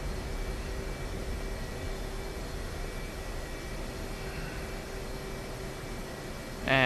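Steady broadband roar of an F/A-18 jet in the DCS flight simulator, a continuous engine hiss with a faint tonal hum, unchanging throughout before a sharp louder burst at the very end.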